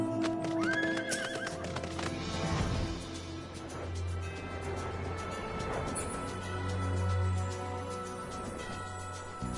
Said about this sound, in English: We'll take the horsey.